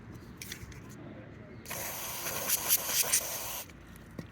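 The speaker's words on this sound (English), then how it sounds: "I need to spray again" An aerosol cleaner sprays in a hissing burst onto the air flow sensor of a 2012 Toyota Prius Plus Alpha V, with a short spray first and a longer sustained blast, close and fairly quiet.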